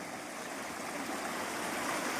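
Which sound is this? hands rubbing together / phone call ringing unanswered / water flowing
water flowing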